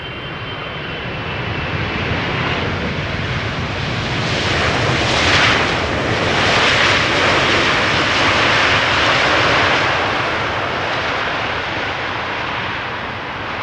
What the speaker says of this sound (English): American Dreamliner